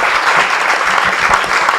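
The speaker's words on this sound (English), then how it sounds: "give them a good round of applause" A short burst of loud, dense applause from a conference crowd, steady clapping with no pauses.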